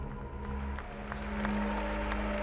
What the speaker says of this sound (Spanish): Porque le aplauden,